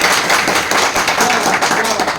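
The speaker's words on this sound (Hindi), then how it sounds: "शानदार वाली ताली।" Audience applause at a network marketing meeting in a hall: a steady, dense wash of many hands clapping close by, continuous throughout with faint voices mixed in.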